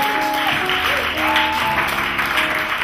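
A church congregation at a prayer meeting claps steadily in a dense, continuous wash of applause, with sustained musical tones running beneath the clapping throughout.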